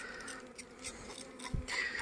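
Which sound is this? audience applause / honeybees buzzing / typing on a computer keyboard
honeybees buzzing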